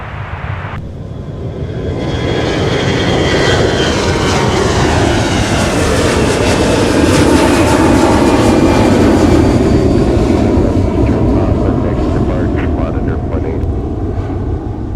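A Sun Country airliner takes off from Minneapolis–St. Paul airport in winter, its loud, broad jet roar swelling within the first second and holding steady and powerful for the full stretch.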